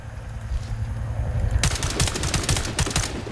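Rapid automatic gunfire erupts in the Warface video game training mode, loud and close. Dense bursts of shots follow a quieter stretch of game ambience and continue to the end.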